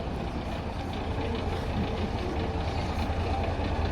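An old fire service vehicle rolls past in a motorised parade, its rustic engine giving a continuous loud, rough rumble with steady low drone throughout, no one speaking.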